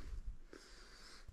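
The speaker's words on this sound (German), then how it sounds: "Er schnarcht einfach." A man snoring while asleep on a couch, a brief low rasping snort near the start followed by faint, quiet breathing noise.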